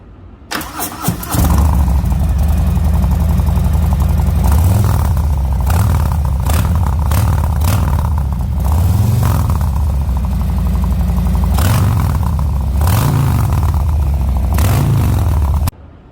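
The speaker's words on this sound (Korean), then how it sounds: "미러 기에114 엔진의 프리덤 슬립온 머플러입니다." Harley-Davidson Softail with a Milwaukee 114 engine and Freedom slip-on muffler starts up loud and close, then settles into a deep, lumpy idle broken by several throttle blips before cutting off.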